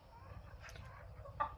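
Fayoumi and tiger chickens clucking in a household yard, a few soft low clucks followed by a sharper louder cluck near the end, heard close but quietly.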